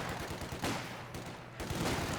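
A mounted MG42 machine gun firing in Company of Heroes 2 amid battlefield noise: rapid, dense bursts of gunfire with sharp cracks at steady loudness, no talking.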